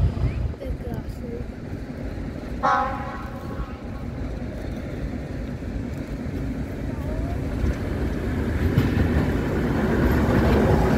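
A Bardotka diesel locomotive train departs with a rising engine drone and rumble that builds steadily, and a brief horn-like tone sounds early on.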